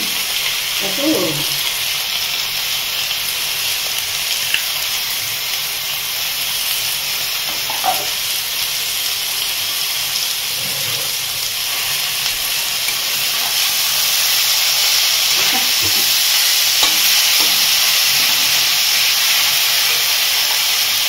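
Whole pointed gourds (potala) fry in hot oil with a loud, steady hiss and sizzle close up, swelling slightly near the end, broken by a few brief clinks of stirring.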